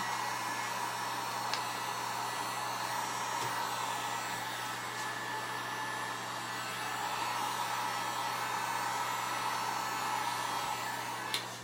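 A hair dryer blows steadily on the bottom of a bee hive, one continuous loud whooshing roar with a low hum that stays close and unbroken, with no talking.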